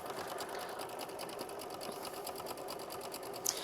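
A sewing machine runs zigzag stitching across a quilted butterfly, a steady fast rattling hum that holds evenly throughout, close and alone, with a small click near the end.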